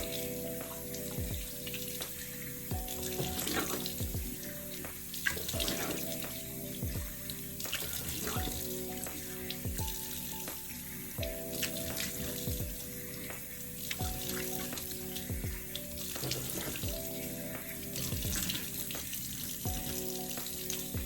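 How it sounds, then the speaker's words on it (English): Water from a bathroom sink tap runs continuously while a face is rinsed off, a steady close splashing hiss with irregular splashes as hands scoop water, no talking. "I wash my face for about a minute and then I rinse it off"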